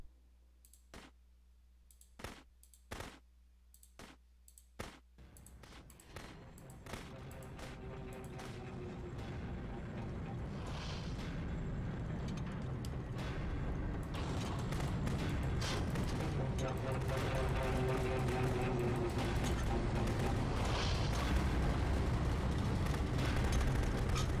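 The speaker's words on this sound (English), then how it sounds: "you can click to fire the gun" Gunfire in the video game The Beginner's Guide, a series of sharp isolated shots followed by a dense, building roar of rapid fire and rumbling that grows steadily louder.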